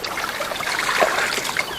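Water trickles and splashes into prospecting pans, a short steady pour with a slight swell near the middle and no talking.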